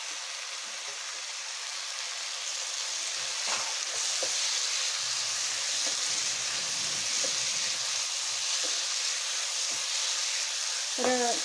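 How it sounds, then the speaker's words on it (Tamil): Peas and cabbage sauté in hot oil, giving a steady, close broadband sizzle that runs throughout, with a few scattered clicks and stirring knocks of the spoon against the pan. "ஒரு 4-5 நிமிஷம் இப்படியே வணக்கி விட்டுடலாம் இந்த எண்ணெயில்"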